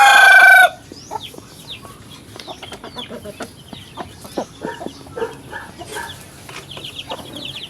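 A rooster crows loudly at the start, then hens cluck and chatter in a steady, busy scatter with occasional bird calls around them.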